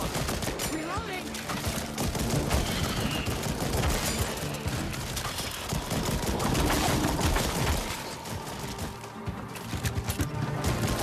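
Rapid gunfire from the After the Fall VR game crackles in dense, loud bursts of overlapping shots across the whole stretch, with no pause.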